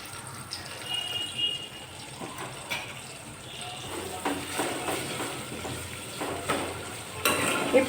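Onion and green chili frying in a pan for Andhra-style sorakaya pulusu, a steady close sizzle with occasional stirring clatter running throughout.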